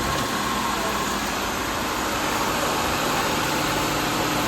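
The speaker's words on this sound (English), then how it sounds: "All right, we're gonna go ahead and start the car." A Buick car engine idles with its oil filler cap removed, giving a steady, dense hum and hiss that holds at constant loudness with no pauses.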